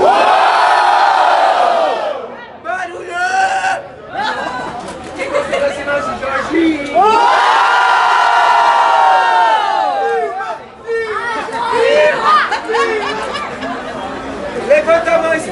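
At a street rap battle, a large crowd cheers, whoops and shouts in loud waves, with a host's voice rising above the roar between bursts.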